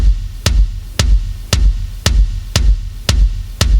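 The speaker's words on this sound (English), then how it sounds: "All it is where you're playing this on your bass drum" Bass drum notes from a drum fill on an acoustic kit, struck alone in a steady pulse of eight loud, close, booming hits about half a second apart.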